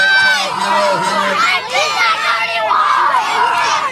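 A wrestling crowd at a championship main event cheers and shouts loudly for the hometown favourite, a dense, continuous roar of voices with children's shrieks rising and falling throughout.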